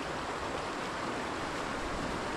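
Flowing water from a relaxing stream near a bridge, a steady broadband rush that stays even and close throughout with no other sounds.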